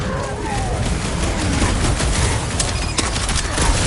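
Gunfire in the Guardians of the Galaxy action game, a dense sustained barrage of rapid shots blended with loud combat noise and effects throughout.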